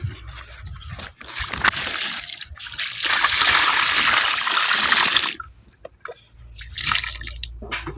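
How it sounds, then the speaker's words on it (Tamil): Water sprinkled over sand-covered soil after planting elephant foot yam, heard as close splashing and pattering in two long bursts separated by brief quiet gaps, with no talking. "தண்ணீர் தெளிச்சுக்கலாம் நண்பர்களே."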